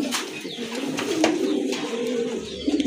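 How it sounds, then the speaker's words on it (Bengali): A pair of Super Mili pigeons coos close by in low, continuous, rolling murmurs that last throughout, with a few faint chirps and background noise. "এক জোড়া সুপার মিলি কবুতর, খুবই চমৎকার।"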